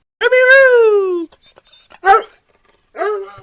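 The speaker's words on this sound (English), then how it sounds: "I got 3 dogs sitting right under my feet" Pet dogs sitting at someone's feet let out a long, high whining whimper, then a sharp bark and a shorter yelping whine, close and loud in a quiet room.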